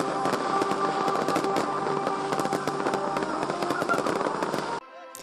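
New Year's fireworks in Belgrade, Serbia, crackling and booming in a dense, continuous barrage that fills the scene loudly before cutting off abruptly near the end.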